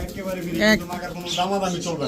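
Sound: pigeons cooing, Kaldam and green-necked pigeons

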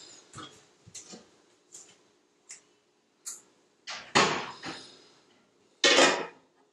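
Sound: lid being opened while canning tomatoes

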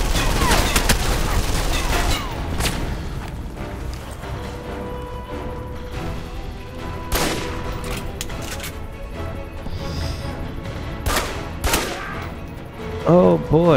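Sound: gunfire in the video game Alpha Protocol

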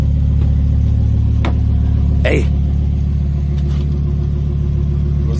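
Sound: Lamborghini car engine running

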